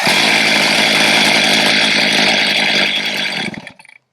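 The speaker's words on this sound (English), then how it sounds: "Put your foot there, and then you can pull it to go ahead and start it, which I'll do now." A chainsaw, started by pulling the cord while held on the ground with a foot, runs loud and close at a steady high whine, then cuts out and sputters to silence near the end.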